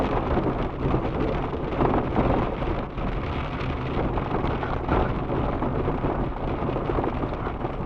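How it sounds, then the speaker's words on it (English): A night thunderstorm near a mountain brings steady heavy rain and low rolling rumbles, with wind buffeting the microphone throughout, dense and continuous. "Here's tonight's storm."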